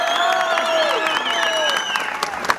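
Wedding guests at a grand tribal wedding clap and cheer loudly and steadily, a dense close crowd with whistles and voices rising over the applause throughout.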